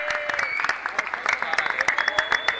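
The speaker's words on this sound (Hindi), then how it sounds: "तालियां बजनी चाहिए" Crowd at a box cricket tennis-ball match in Boisar, Palghar, clapping in scattered bursts with sharp individual claps, while a commentator talks over the applause.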